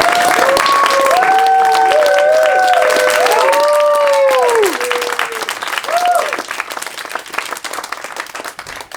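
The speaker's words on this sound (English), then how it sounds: "we just wanted to give Ben a brief round of applause" Audience at an improvised comedy show at Leicester Comedy Festival bursts into loud applause and cheering with whoops, the clapping strong at first and then thinning into scattered claps.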